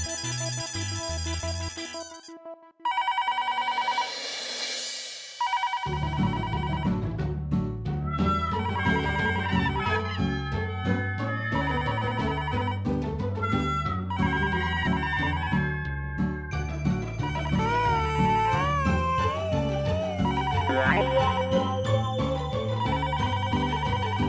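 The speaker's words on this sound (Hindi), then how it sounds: "इतनी रात को कौन फोन कर रहा है?" A landline telephone rings late at night in a household scene, a repeated electronic ringtone pattern sounding over television background music, loud and continuing for a long stretch.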